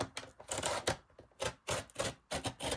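A craft blade cutting 6×6 paper for mini notebooks, heard as several short, close scraping and dragging strokes in quick, uneven succession.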